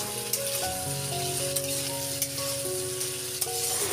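Potatoes tossed into sizzling oil with garlic and chili in a pan, a continuous moderate frying hiss with a few sharp clicks, no voices, while a tonal music bed plays underneath.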